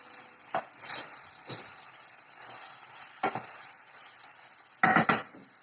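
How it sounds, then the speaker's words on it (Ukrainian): Button mushrooms fry in a pan with meat, carrot and onion, giving a steady close sizzle broken by several sharp scraping stir strokes. "тому я одразу додаю печериці і нехай воно це все обсмажується разом"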